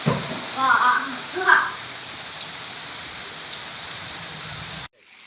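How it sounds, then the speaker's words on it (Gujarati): Light rain falling over farm fields in a rural village, a steady soft patter in the background, with brief voices near the start before the sound cuts off abruptly near the end. "વસંતપુરમાં ધીમી ધારે વરસાદ"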